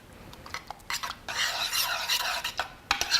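Tomato paste and olive oil stirred in a pot, a spoon scraping and swishing in quick irregular strokes with brief clinks, close and alone with no talking.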